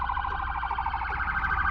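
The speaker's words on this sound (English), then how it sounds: "oh, there it is, ambulance." Ambulance siren wailing steadily in a rhythmic rising-and-falling pattern, moderately loud and continuous through the short stretch, with no voices over it.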